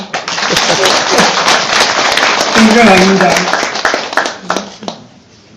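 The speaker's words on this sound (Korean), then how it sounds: "박수 한번 쳐봐주세요" An audience at a Korean trout-farming 50th-anniversary ceremony claps steadily in a dense, loud patter that fades out near the end, with someone speaking over it.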